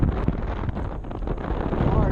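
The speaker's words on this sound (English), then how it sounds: "it's definitely a windy day right now. It's like literally about 20-mile-per-hour winds." Strong gusts of wind, around 20 miles per hour, buffet the microphone on a bayou during kayak fishing, a rough, steady blustery roar that nearly drowns out a voice.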